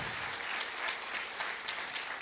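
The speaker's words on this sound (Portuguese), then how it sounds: "Acelere mais uma vez com palmas." Church congregation clapping together, a dense steady wash of applause with sharp individual claps standing out, fairly close and continuous for a couple of seconds with no speech.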